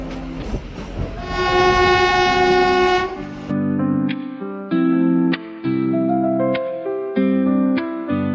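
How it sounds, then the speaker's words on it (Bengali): A toy train on the Shimla mountain railway blows a long, loud, sustained horn over a rumbling run, then sounds a series of shorter horn blasts and whistle tones in an uneven rhythm. "আমরা এখন ট্রেনে বসে গেছি, টয় ট্রেনে।"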